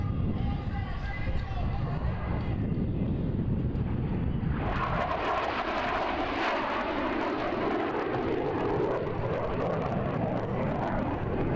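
F-16 Fighting Falcon jet engine roaring at an air show demo, a loud continuous rushing roar that surges sharply about midway, heard with crowd babble and voices mixed in.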